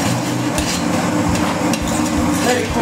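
Tomato paste going into a hot pan of browned suckling pig and caramelized vegetables, with steady frying sizzle and a few clinks and stirring knocks against the pan, fairly loud and continuous.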